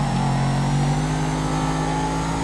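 A sports car engine in GTA 5 Online holds a steady, loud revving drone with a slight rise in pitch, alone and close.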